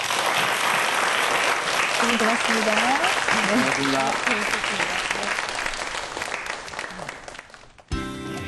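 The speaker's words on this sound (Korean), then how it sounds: "여러분 큰 박수 한번 부탁드리겠습니다" Sustained audience applause at a televised Korean science lecture, loud and dense throughout, with a voice speaking briefly over it before it cuts off near the end.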